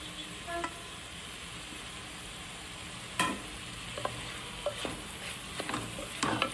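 Tomatoes are stirred into chicken frying for Andhra-style gongura chicken, a soft, quiet sizzle running throughout with a few scattered spoon scrapes growing more frequent toward the end.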